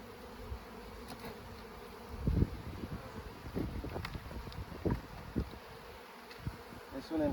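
Honeybees buzz around an open hive during an inspection, a soft continuous hum with a few louder passes close to the microphone and some wind noise.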